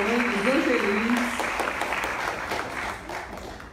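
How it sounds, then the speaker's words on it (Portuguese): An audience at a public health panel session breaks into a round of applause, dense steady clapping that fills the room while a voice carries on briefly over it at the start. "vou fazer aqui uma salva de palmas da Pernambuco"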